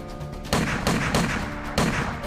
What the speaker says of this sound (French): Il a sorti le bras et il s'est mis à tirer frénétiquement